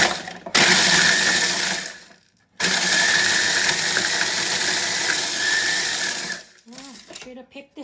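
A kitchen machine grinds biscuits into crumbs with a loud, rough whirring that runs in two bursts separated by a short pause, followed by someone speaking briefly at the end.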